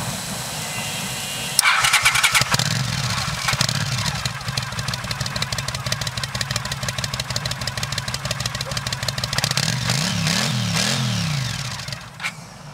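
Honda CX650 Turbo motorcycle engine cranks and fires, then runs with a steady, slightly uneven idle and a few blips of revving near the end before cutting off; loud and close, with no talk.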